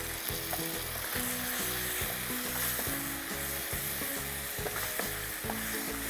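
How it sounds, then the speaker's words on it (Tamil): Chili powder and coriander powder being stirred into sizzling oil in a frying pan, a strong continuous fry hiss broken by rhythmic scraping and clanking strokes of a spoon against the pan. "மிளகாத்தூள் போட்டலாம், தனியாத்தூள், போட்டு மிக்ஸ் பண்ணிக்கிறேன்."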